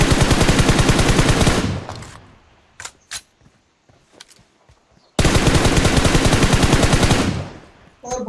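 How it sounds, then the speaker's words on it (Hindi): Automatic gunfire in the mobile battle royale game Battlegrounds Mobile India: two long, loud bursts of rapid shots separated by a quieter stretch with a few isolated sharp cracks and clicks. "दूसरा वाला कहां से फायरिंग दे रहा है यार"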